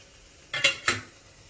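A metal steamer opened to check rice flour puttu as it cooks: two sharp, close clanks of the lid in quick succession, then quiet.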